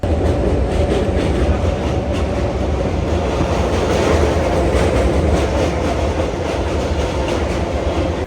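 A train rolls through a railway station, a loud continuous rumble of wheels and carriages with faint clickety-clack, filling the whole stretch without speech.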